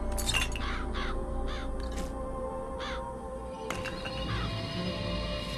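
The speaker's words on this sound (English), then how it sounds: "The murder of crows." A flock of crows summoned by a vigor power in BioShock Infinite caws in repeated harsh bursts over a low game ambience, several calls clustered early and another flurry near the end.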